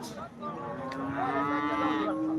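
Cows low loudly at a busy cattle market in Modnimb, one long, steady moo rising clear above the low crowd murmur and market bustle.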